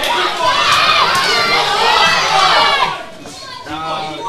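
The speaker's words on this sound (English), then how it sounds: "the crowd is now getting behind him." Boxing club home show crowd cheering and shouting loudly and continuously, with children's voices mixed in, the roar dipping briefly near the end before rising again.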